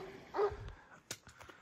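A dog keeping watch by a doorway along a rural walking route in Spain gives a single short bark, followed by a few fainter yips and small sounds, moderately close.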